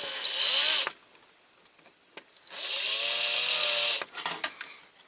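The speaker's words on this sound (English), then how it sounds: "drill these rivets out. Start with a smaller drill just to get the centre right." A power drill whines loudly in two long bursts while drilling out rivets on a Corgi Ford Thames toy caravan, separated by a pause and followed by a few short, stuttering drilling spurts.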